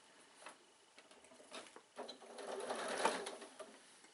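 Close, quiet sewing machine stitching zip tape onto a bag, heard as soft irregular mechanical tapping and patter that grows slightly denser toward the end.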